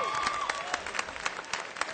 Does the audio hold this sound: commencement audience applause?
yes